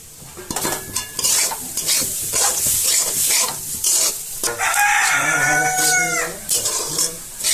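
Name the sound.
sesame frying in oil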